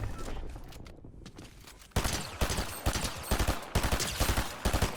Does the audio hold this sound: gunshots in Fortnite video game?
yes